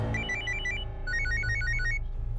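A telephone rings in a Hindi TV drama, with repeated bright electronic ringtone bursts in two clear rounds, fairly loud over a low steady background hum; no talking.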